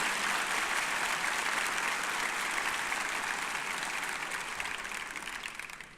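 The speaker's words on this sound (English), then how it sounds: "let's give those folks as well a nice round of applause" Large commencement audience at a university ceremony giving a steady, dense round of applause, continuous and even, tapering off slightly at the end.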